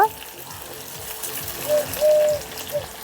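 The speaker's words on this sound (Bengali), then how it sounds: "এখন মাছ ভাজা তেলের মধ্যে আলু ভেজে নেব" Cut potatoes frying in oil already used for frying fish, a short burst of bubbling sizzle with a few swelling hisses and faint clatter, close and fairly loud.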